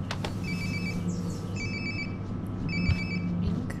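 A phone rings somewhere in a house in the video game Life is Strange: Before the Storm, three evenly spaced electronic ring bursts, muffled and moderately distant, over a steady room hum with no talk.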